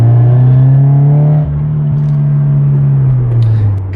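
A Subaru BRZ fitted with a new custom equal-length header accelerates, its engine holding a loud, steady drone that dips briefly mid-run and then climbs again, heard close from inside the car.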